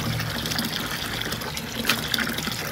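Water gushes steadily from a tap into a kitchen sink during hand washing of cloth pantyliners, a loud, close, continuous rush with faint splashy variations and no voices.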